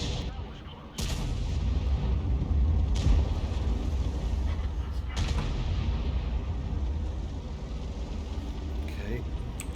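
Heavy artillery fire from a Conqueror gun carriage in a sandbox video game: a deep booming blast near the start, further rumbling shots around three and five seconds, and a sustained low roar with speech over it.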